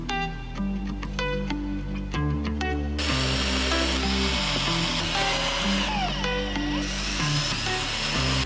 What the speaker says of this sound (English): Tighten the screws again.